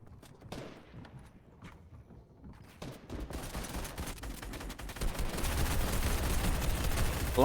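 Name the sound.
gunfire in the video game Fortnite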